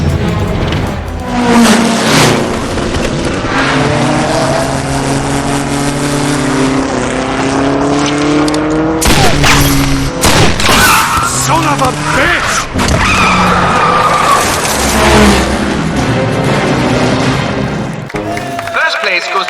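Race cars launching at the start of a race in The Saboteur video game, with engines revving loudly, tyres skidding and roaring as the cars move off, all mixed with a musical score and heard under talking voices.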